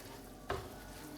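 One short scrape of a utensil stirring butter through caramel in a hot pan, a quick close swish with a faint sizzle behind it.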